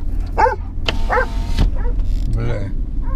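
A dog barks in short harmonic bursts, three or four times, outside a Mitsubishi Pajero stuck among cows, heard from inside the car over a low engine-like rumble and occasional voices.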